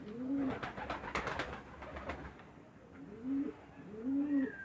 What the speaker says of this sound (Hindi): अब इस टाइम हमने कबूतरों को दाना डाला है। ये कबूतर दाना खा रहे हैं